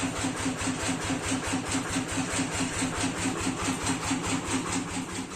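A tractor's diesel engine runs steadily at idle outdoors, a continuous low throbbing drone with an even rhythmic pulse and a faint mechanical rattle, loud and close with no talking over it.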